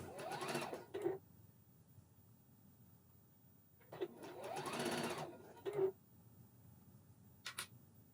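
A Juki MCS1500 coverstitch machine sews narrow knickers elastic through a bulky seam in a few short runs separated by quiet pauses, its motor whirring and ticking softly with no talk.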